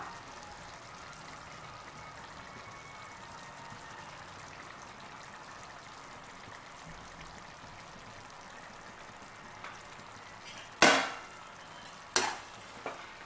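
Mutton curry masala sautéing in a pan, a low steady sizzle for most of the stretch, then a few loud sharp clatters of a utensil near the end.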